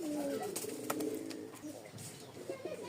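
A pair of white-crested Giribaz pigeons with feathered feet coo softly in low, rolling calls, with some faint rustling and clicks nearby.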